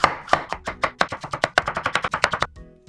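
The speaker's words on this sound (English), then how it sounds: "And then these also I'm gonna cut into strips." A knife cuts a bell pepper into strips on a board, a close, quick run of about twenty crisp chopping taps in steady rhythm that stops abruptly near the end, with no talking.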